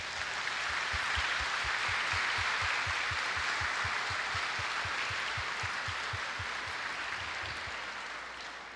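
Steady, dense applause from a church congregation welcoming future altar servers fills the space, holding loud and even throughout with a faint rhythmic low thump running beneath it.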